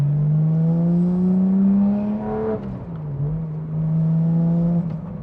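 A 600 hp DeMan 4.5-litre Porsche 997.2 GT3 engine hums steadily from inside the cabin while driving, its tone climbing through a gear, briefly dropping at a shift, then settling into a smooth, fairly quiet drone.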